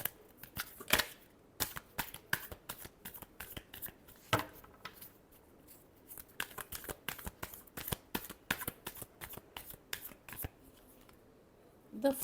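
A deck of tarot cards shuffled by hand close up, with quick, irregular riffles and crisp snaps of card edges continuing steadily and softly throughout.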